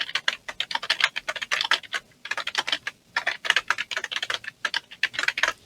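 A loud, close computer keyboard clatters as text is typed in Figma, coming in quick bursts of keystrokes separated by short pauses, with no voices.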